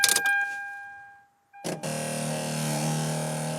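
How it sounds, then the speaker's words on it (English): A broken power radio antenna motor at the back of a third-generation Toyota Camry whines and then falls silent. The car starts, and a steady, fairly quiet engine hum carries on to the end. "When you start it up, you actually get this sound in the back of the radio antenna trying to go up, but it's broken."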